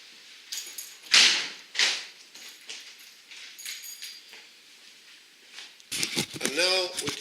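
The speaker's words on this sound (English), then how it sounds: "I'm now going to close the door, put the camera down just to close the door." Flood door being shut by hand during a demonstration beside a water testing tank: a couple of sharp knocks and thuds, then a louder clattering, scraping stretch near the end, with quiet room noise between.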